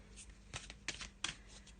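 Close, crisp riffling and flapping of a Mystic Shamans tarot deck being shuffled by hand, a few sharp bursts of cards snapping together in an uneven rhythm over a quiet room.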